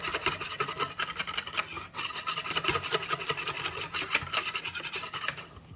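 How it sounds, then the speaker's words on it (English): Whisk beating a milk mixture for tres leches cake in a bowl, a quick steady rhythm of scraping, rubbing strokes at close range, fairly quiet and without talk. "And then we're just going to whisk, whisk, whisk."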